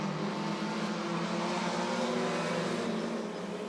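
Bandit-class race cars roaring around Rockford Speedway during a feature race, a steady dense engine drone that swells slightly as the pack passes, with no voices heard.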